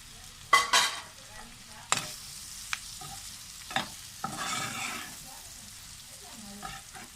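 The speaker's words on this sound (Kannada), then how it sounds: "ಈಗ ನಾನು ಪ್ರಾನ್ಸ್ ಫ್ರೈ ಮಾಡ್ಕೊಂಡಿದ್ನಲ್ಲ ಅದನ್ನು ಇದಕ್ಕೆ ಹಾಕ್ತಾಯಿದ್ದೀನಿ" Fried prawns tip into a pan for chilli prawn fry and get stirred, giving a few sharp clattering scrapes over a soft, intermittent sizzle.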